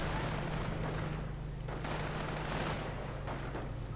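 Machine gun fire from an MG42 in a World War II real-time strategy game, heard as a dense, steady stream of gunfire bursts with distant booms, continuous across the whole stretch without talk.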